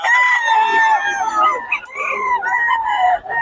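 A stag, a young gamecock rooster, crowing close and loud in one long, wavering call lasting a few seconds.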